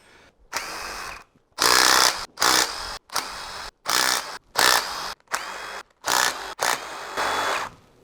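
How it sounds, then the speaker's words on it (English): Impact gun undoing cylinder head bolts on a Rover 25 engine: eight loud, close bursts of rattling hammering, each about half a second to a second long, separated by short pauses. "you're using a gun on a head bolt"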